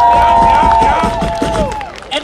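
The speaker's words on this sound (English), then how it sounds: "Give them a round of applause." Crowd at a live hip-hop DJ event clapping and cheering for the DJs, loud and close, with a voice talking and some tonal music or feedback over the applause.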